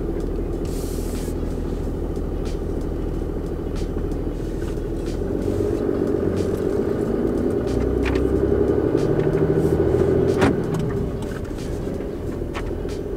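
A truck drives along the road, heard from inside the cab as a continuous low engine rumble and road noise that swells slightly midway, with a brief knock near the end.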